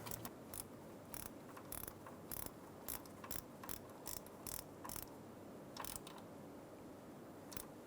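A ratchet snugs down a new power steering pressure switch on a 2007-2011 Toyota Camry, giving quiet bursts of rapid clicking at an irregular pace over a low hum, with no talking.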